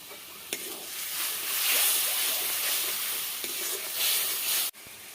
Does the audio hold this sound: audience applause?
no